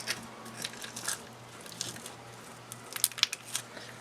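Honeycomb slime sponges squeezed up close, producing scattered soft crinkles and squishy crackles that build into a quick burst of sharp crunches toward the end, fairly quiet overall.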